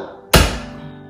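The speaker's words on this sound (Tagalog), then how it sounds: "Umpisa na natin gayatin ang bawang" A single knife chop through garlic on a cutting board, one sharp close thunk that rings briefly and fades, with no talk.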